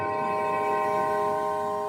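A sustained synthesizer tone without its sub oscillator, a steady bright chord-like drone with no deep low end, held evenly at moderate level for about two seconds.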